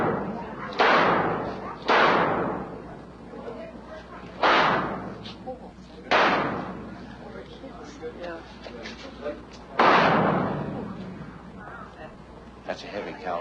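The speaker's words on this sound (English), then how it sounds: "Now, double action firing," Five double-action rounds from a roughly .38 caliber revolver are fired at a shooting demonstration, each loud sharp crack followed by a decaying boom, spaced unevenly about a second or more apart, with a fainter shot at the end.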